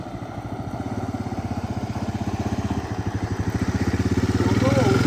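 A Honda Big Red engine chugs in a fast, even pulse that swells as the rider hits the gas, with a voice speaking over it.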